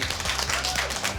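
A school audience applauds the students who helped build a new science lab, a brief wash of dense clapping with a faint voice mixed in.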